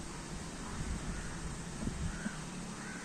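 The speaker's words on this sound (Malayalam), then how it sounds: "ഇത് കാക്കയാണ്" A crow caws a few times at a distance outdoors near flying pigeons, its calls faint and partly buried under steady wind noise buffeting the microphone.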